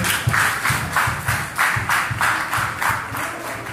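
An audience at a church wedding ceremony applauds the protocol team, with rhythmic, evenly spaced group clapping that goes on for several seconds, moderately loud and without talk.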